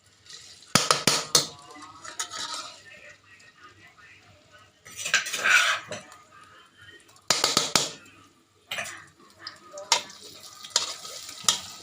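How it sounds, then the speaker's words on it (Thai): Pounded chili and garlic curry paste being stir-fried in a pan, with soft sizzling under repeated scraping and clanking of a metal spatula in uneven bursts, close and fairly loud, and someone talking in between. "ก็ผัดให้หอมนะครับ คั่วให้หอมก่อนนะครับให้พริกแกงหอมก่อนนะครับ"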